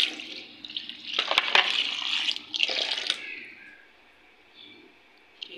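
Water runs from a tap into a container for parrots, a close splashing stream that rises and falls in bursts over several seconds before tapering off to near quiet.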